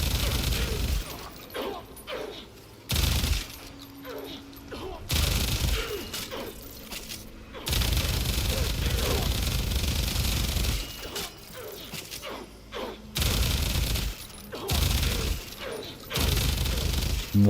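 Gunfire from the video game Warframe crackles in repeated loud bursts and short volleys, broken by brief pauses, with a person talking over parts of it.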